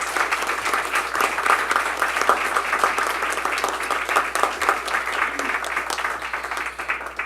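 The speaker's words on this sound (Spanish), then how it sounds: "para quienes pido un fuerte aplauso" Audience at an evening panel discussion on Afro-Peruvian identity giving the speakers a strong round of applause, dense sustained clapping filling the hall, no talking.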